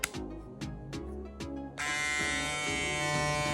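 An X-Ergo Gamma+ cordless hair clipper hums with a steady electric buzz. A few sharp clicks come first as it switches on and off, then it runs continuously, close and fairly quiet.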